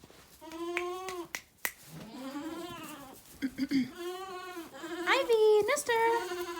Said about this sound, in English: I am coming outside to spend some time with my goats